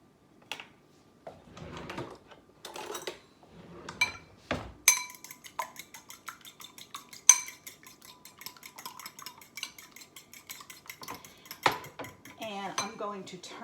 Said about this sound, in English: we're going to need 1 large egg. And I'm going to beat that